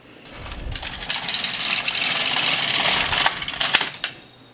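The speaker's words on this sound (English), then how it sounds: "I'm going to start knitting my 25 rows of plain knitting." An LK150 knitting machine carriage is pushed back and forth through rows of plain knitting for sock legs, giving a steady mechanical whirring rasp with clicks at the row ends. Close and alone, it stops abruptly near the end.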